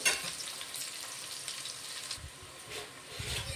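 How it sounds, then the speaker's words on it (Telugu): Ingredients for bagara rice fry quietly in a pan, giving a soft, steady sizzle with faint stirring and a few light bumps, close but low in level. "ఇప్పుడు ఇవి కొంచెం ఫ్రై అవుతున్నాయి కదా"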